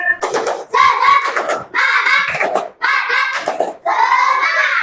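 A school class chants a rhythmic clapping cheer during a Quran lesson, with loud group voices in four or five punchy bursts mixed with claps and short gaps between.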